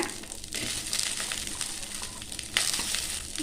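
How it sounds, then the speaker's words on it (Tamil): Coconut pieces and tomato sauté in a pan with a steady, close sizzle, mixed with crackling and a scrape or two from stirring, and no talking. "தக்காளியும் தேங்காய் சிலையும் சேர்த்து ரெண்டு நிமிஷம் நல்லா வதக்கிக்கிட்டாச்சுங்க"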